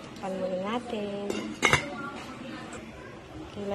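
Pan handled in a home kitchen while pork and mushroom balls are cooked, metal pots and cutlery clinking with a sharp clatter midway, under soft background voices.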